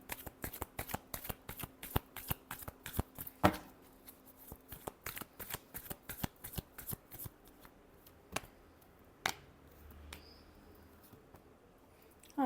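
Tarot cards are shuffled by hand at close range, producing rapid bursts of crisp riffling and slapping taps at an irregular rhythm, fairly soft overall.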